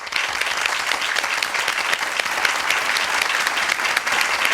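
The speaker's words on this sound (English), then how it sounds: "And so let's give Crystal Kiefer a hand clap, and let's just welcome her onto the stage." Loud, steady applause from an audience, continuous clapping filling the whole stretch with no pauses and no voices.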